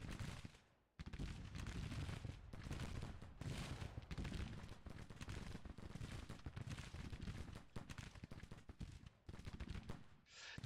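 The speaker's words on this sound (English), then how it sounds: "So now I got 3 brigades shooting them up." Three brigades firing in a war strategy video game, a dense, continuous crackle of massed gunfire and volleys running almost the whole time after a brief quiet start.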